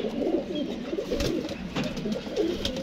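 VIP-breed pigeons kept in a loft coo nearby, soft throaty rolling calls repeating in overlapping bursts, close and steady with no talk.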